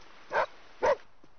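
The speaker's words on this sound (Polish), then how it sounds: "To twój piesek? Masz psa? Pieska?" Two short, sharp yaps from a small dog, nearby, with a pause between them.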